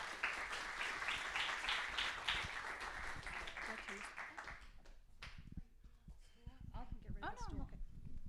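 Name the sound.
audience applauding to welcome the lecturer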